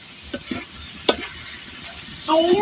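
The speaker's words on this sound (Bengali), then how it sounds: "ডিমগুলি দিয়ে দেবো। মশলা কষানো হয়ে গেছে, ভালো করে মশলার সাথে ভাজতে হবে।" Eggs fry with a cooked-down spice paste in a pan, a bright sizzle with a few scrapes of a spoon stirring, near and moderately loud.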